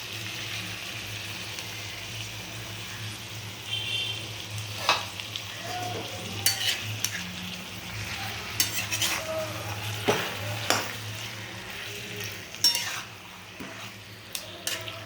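Marinated chicken sizzles steadily in a pan after being added to fried vegetables, while a spatula scrapes and clinks against the metal in scattered strokes; the cooking sounds are close and fairly quiet, with no one talking.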